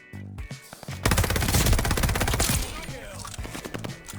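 Automatic fire from a Cooper Carbine in a video game, a sustained rapid burst of loud close shots followed by scattered gunfire and game effects.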